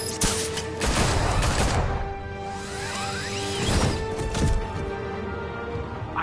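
Gunfire erupts in bursts in a Batman video game, with several sharp shots and whooshes early, another cluster midway, then a lingering low rumble of game ambience.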